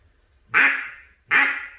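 Two loud, close mallard quacks from a duck call, evenly spaced and separated by a short pause, with nothing else around them.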